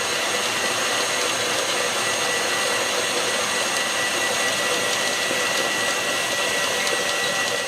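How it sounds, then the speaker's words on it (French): An electric mixer whips cream with icing sugar into chantilly for a Black Forest Yule log, giving a continuous steady whirring drone at moderate level that does not change, with no talking. "Et on va battre pour faire monter l'ensemble en chantilly."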